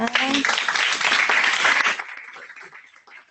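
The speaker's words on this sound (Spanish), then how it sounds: "Aplauso." A burst of enthusiastic applause from a group, loud at first then thinning out and fading, with a voice briefly audible at the start.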